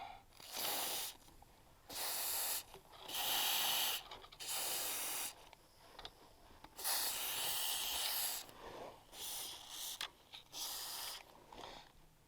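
Lubricant is sprayed onto bolts during dashboard removal on a Volvo P1800S, heard as a string of short, close hissing bursts of aerosol spray separated by brief pauses.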